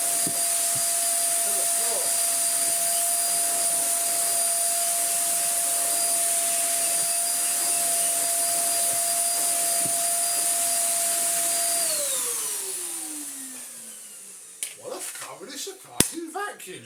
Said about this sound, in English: Now, we can say that we have vacuumed the house